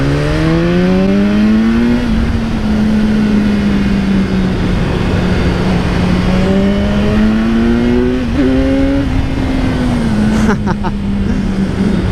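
Loud engine of a 2018 BMW S1000R sport motorcycle accelerating up through the gears on small roads, the pitch rising and falling with each shift, close and continuous.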